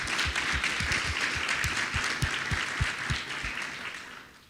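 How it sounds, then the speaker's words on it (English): Audience at a panel discussion on Caribbean resilience gives a moderate, steady round of applause that fades toward the end, heard from a little distance in a hall. "A round of applause."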